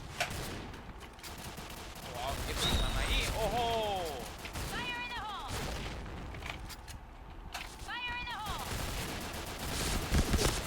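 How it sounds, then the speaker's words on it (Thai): Bursts of M4A1 rifle fire in the shooter game Point Blank, short clusters of rapid shots repeating across the scene amid game effects and chirping tones, with someone talking over it. "พวกเนี่ยมันยิงทีละสามนัด มันขัดใจมากเลยนะ"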